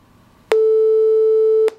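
A simulated vibrating string struck at its middle point gives one steady synthetic tone with a sharp onset, held evenly for just over a second and then cut off abruptly, with no talk.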